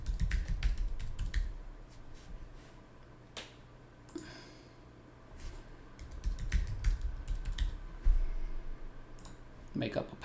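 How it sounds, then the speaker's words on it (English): Typing on a computer keyboard while entering a name during Windows 10 setup inside a virtual machine, with scattered bursts of key clicks and pauses between them, fairly close and moderately quiet under a low background hum. "I'm just going to type in my name here."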